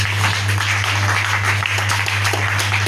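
A church congregation applauds and cheers for the Lord, a steady roar of clapping and voices filling the room, with a low hum running underneath.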